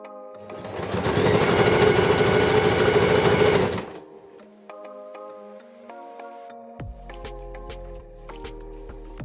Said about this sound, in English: So now I'm stitching the twisted strap onto a piece of fused fabric